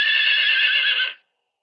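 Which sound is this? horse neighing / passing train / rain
horse neighing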